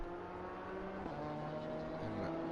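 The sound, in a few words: race car engine passing through a chicane at Imola, sim racing game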